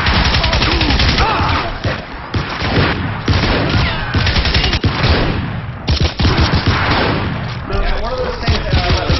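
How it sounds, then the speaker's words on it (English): Rapid bursts of gunfire from the Crysis shooter game crackle almost nonstop through dense, loud combat noise, with explosive crashes mixed in and a voice talking over the action. "right now I'm shooting Koreans"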